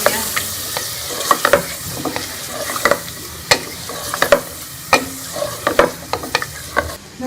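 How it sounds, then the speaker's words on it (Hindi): Beef frying with ginger-garlic paste for nihari, a steady sizzle under repeated loud clacks and scrapes of a spoon stirring the pot, up close with no speech. "इसमें लहसुन और अदरक का पेस्ट भी शामिल कर लेंगे और इसे अच्छी तरह से कलर चेंज होने तक भूनेंगे बीफ को"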